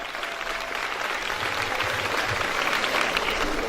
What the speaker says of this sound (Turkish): Onları da bir alkışlıyoruz. Hocalarımızı